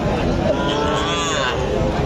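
A calf moos in a long drawn-out call, loud and close, over a busy background of crowd noise at a cattle market in Joypurhat.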